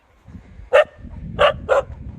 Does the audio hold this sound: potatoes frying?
no